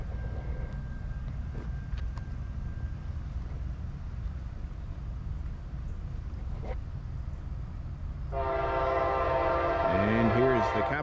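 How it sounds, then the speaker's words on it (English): An Amtrak Capital Limited passenger train on the CSX Brunswick Line at Gaithersburg, Maryland rumbles steadily nearby, then a loud multi-tone horn blasts for the last few seconds. "Amtrak is on the way, so here we go."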